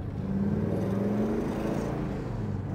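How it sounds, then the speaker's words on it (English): A 1972 Chevrolet Chevelle's engine drones steadily close by, its exhaust note rising and falling slightly as the driver downshifts, eases off and revs, continuous throughout. "Downshift this baby, the exhaust sounds great."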